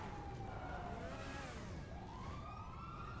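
Police siren in the GTA video game, a wailing electronic tone sweeping up and down over a low rumble of engine noise, fairly faint and continuous.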